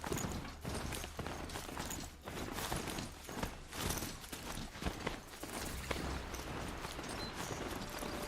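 A horse in Horizon Zero Dawn moves in a rhythmic clip-clop of hoofbeats with creaks and mechanical clanks, a steady, fairly close, busy clatter with no talk.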